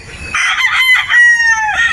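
A rooster crows loudly and close by at a game farm in Batangas, one long drawn-out call with a rising then held tone, no voices.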